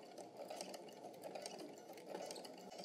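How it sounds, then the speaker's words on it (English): A sewing machine running steadily as it stitches a quarter-inch seam, a close, even mechanical whir with a fast repetitive needle rhythm and no speech. "I'm going to continue sewing."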